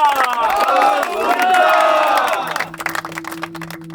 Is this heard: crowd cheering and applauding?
yes